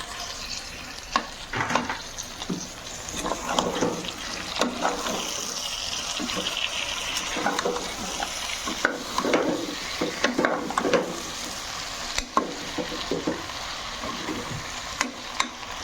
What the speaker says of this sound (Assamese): এয়া মছলাটো ফ্ৰাই কৰি ল'ম মাংসটোৰ সৈতে অলপ